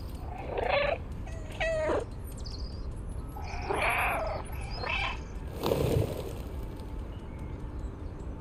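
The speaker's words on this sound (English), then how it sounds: "Oh my kitty, enjoying the sun." A cat in the video game Stray makes several short, soft mewing and chirping calls spaced across the scene over a low, constant purring hum.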